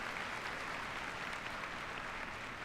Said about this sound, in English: that's a very nice applause you're getting, Junior. Very polite.